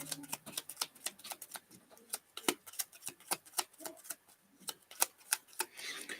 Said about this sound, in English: Let's shuffle up Gimli's deck.